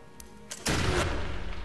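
In the video game Expeditions Conquistador, hunters fire their guns: a faint pop or two comes first, then a loud booming shot whose rumble rolls on and sustains to the end of the clip, with no talking.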